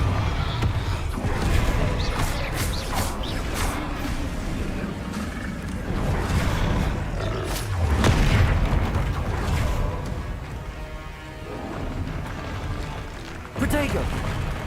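Confringo fire spells from the Hogwarts Legacy video game burst in repeated loud booms and blasts through a dense, busy game battle, layered under continuous speech.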